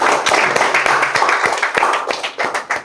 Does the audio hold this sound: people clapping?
yes